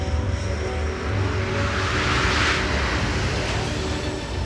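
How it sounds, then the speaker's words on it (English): Loud, steady roar of an early jet fighter, the Horten 229 flying-wing prototype, on its first flight from a remote wartime German airfield, swelling slightly mid-way as it passes, with no voices. "a top-secret jet fighter makes its first flight"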